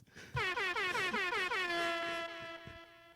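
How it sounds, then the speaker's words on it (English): Loud air horn sound effect, a rapid series of stuttering harmonic blasts that settle into one long sustained tone before fading, played during a talk about the Mortal Kombat Live Tour. "I don't know if those air horns carried in for the chat."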